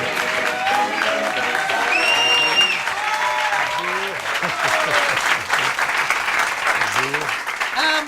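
Studio audience applauding a guest as he comes on stage at a New Year's Eve special, steady dense clapping throughout with crowd voices and faint cheers mixed in.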